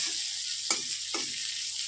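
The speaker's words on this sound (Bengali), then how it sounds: "আমি ভাজি কড়াইটাতেই মাছটা ভাজি বসিয়ে দিয়েছি" Fish sizzles steadily in hot oil in a wok, a constant crackling hiss, broken by two sharp clicks of a utensil against the pan.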